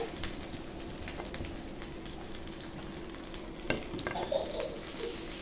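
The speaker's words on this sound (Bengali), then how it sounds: "মাছগুলো আরেকটু পাতলা করে ভাজবো।" Fish frying in soybean oil in a home kitchen pan, a soft steady sizzle with scattered crackles and a few brief louder pops near the end, fairly quiet and without talk.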